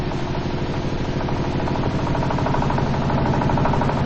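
A B-17 aircraft engine running on low-octane fuel and knocking, a loud, steady mechanical drone with a rapid, regular pulsing rattle throughout.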